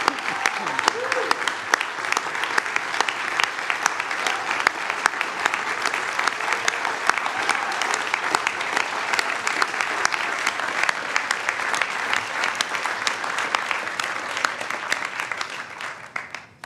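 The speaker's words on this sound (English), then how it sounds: "How about another round of applause for all of our awardees tonight?" Sustained audience applause at an evening leadership awards celebration, a dense steady wash of many hands clapping for about sixteen seconds before fading at the end.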